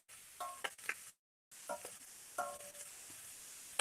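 Shrimp frying in a pan with a quiet, steady sizzle, broken by soft clinks and stirring scrapes and one brief silent gap, with no talking.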